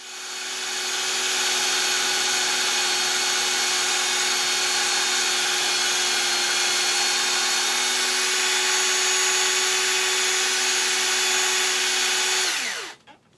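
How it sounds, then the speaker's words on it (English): A power sander with a 1500 grit disc whirs with a steady high-pitched whine as it grinds across a car's daytime running light lens, then spins down abruptly at the end. "The process was then repeated with a 1500 grit sanding disc"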